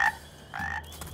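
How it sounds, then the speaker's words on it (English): Cartoon frogs croak twice in quick succession, clear and close, with no speech. "A whole army of frogs."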